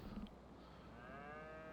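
Cattle in Farming Simulator 25 on a Scottish Highlands farm give a single drawn-out moo, a clear tonal call rising out of soft ambient background noise in the second half.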